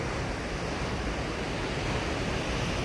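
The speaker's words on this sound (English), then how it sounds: "look at those beautiful crashing waves behind me" Ocean waves crashing at Moonstone Beach, a continuous loud roar of surf with steady wind-like hiss and no distinct breaks.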